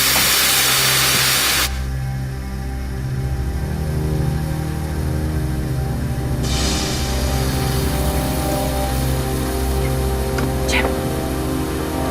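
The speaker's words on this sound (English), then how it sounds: "Sounds like steam escaping." A loud, steady rush of hissing steam escaping from ship boilers fills the scene, continuous and close, with a brief voice underneath and a low mechanical rumble.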